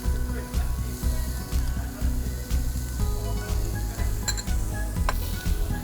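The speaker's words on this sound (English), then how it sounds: "So we take a pan, some bit of olive oil. We'll add some chopped shallots." Chopped shallots sizzling in olive oil in a pan, a steady close crackle with rhythmic stirring scrapes and occasional light clinks of a utensil.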